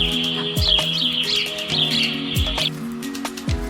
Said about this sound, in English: Can you hear the sound of sparrow?